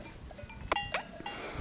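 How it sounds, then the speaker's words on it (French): Sheep in an Alpine mountain pasture give a few short, fairly close bleats, one after another, over quiet outdoor background. "Des beaux moutons, tout ça."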